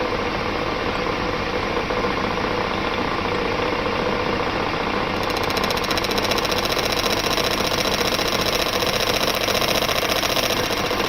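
Metal lathe turning a car clutch part under slow hand feed, a steady continuous mechanical whir and hum that brightens midway as the cut engages, close and fairly loud with no talking.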